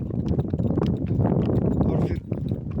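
Horse hooves clip-clop over a rough, rocky path in a steady rhythm, heard close by alongside someone talking and some wind noise.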